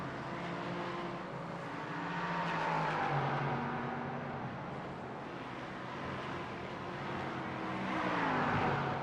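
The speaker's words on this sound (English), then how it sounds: "What about Rob Hartley and Josh Vidal as they're making their way through the same pack now a couple of corners later?" Sports cars in a sim racing series at the Misano circuit whine through a couple of corners as a pack, engine tones rising and falling with downshifts and acceleration at a steady moderate level.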